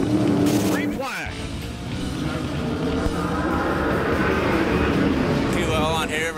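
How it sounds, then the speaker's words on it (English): A 900hp 410 sprint car with an all-aluminum small-block-style Chevy engine racing at Perris Auto Speedway: loud, raw engine roar with a sharp close pass early on, then sustained high-revving drone as cars circle the track. "410 aluminum Chevy engine, basically kind of off the format of an old small block Chevy, but it's all aluminum."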